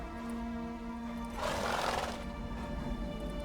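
Roach, the horse in the video game The Witcher 3, lets out a single breathy neigh in the middle over a steady humming background.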